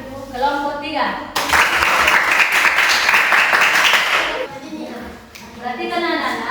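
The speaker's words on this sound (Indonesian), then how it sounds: "Oke, tepuk tangan dulu buat kelompok 3." Applause from a primary school class for group 3, a dense burst of many children's hands clapping for about three seconds, bracketed by a teacher's speech before and after.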